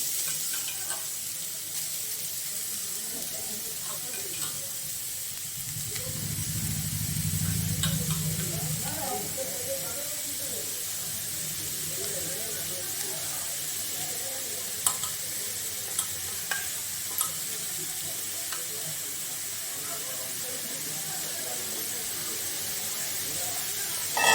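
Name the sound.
carrots frying and being stirred in ghee with cardamom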